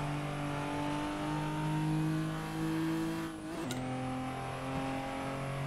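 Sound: turbocharged Japanese car engine in the video game Assetto Corsa

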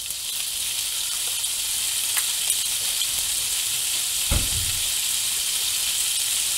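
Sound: bacon frying in olive oil in a pan

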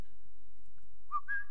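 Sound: man whistling

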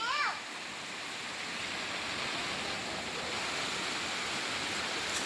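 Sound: waterfall at Wat Sap Duea, Phetchabun

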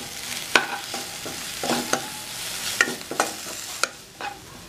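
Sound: stirring masala in a frying pan

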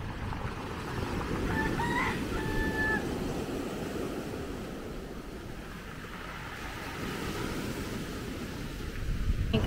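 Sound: chickens clucking and rooster crowing

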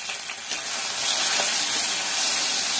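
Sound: mustard, fenugreek, dried chilli, curry leaves sizzling in ghee

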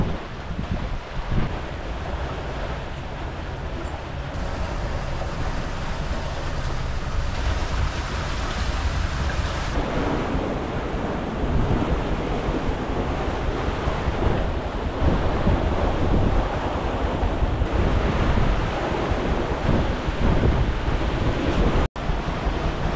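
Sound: wind and waves while sailing a yacht

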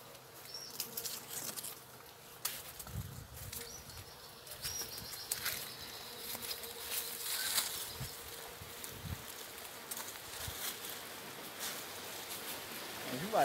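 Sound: honey bees buzzing around acerola tree

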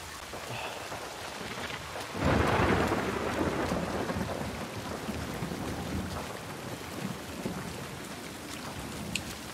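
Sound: rain and thunder in a video game

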